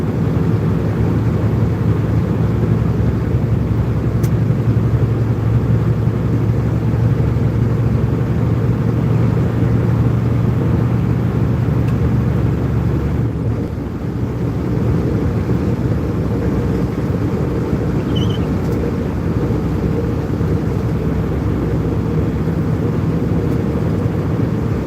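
A freshly repaired truck engine runs steadily, a low continuous rumble that briefly dips midway before settling back to the same even drone, with no talking.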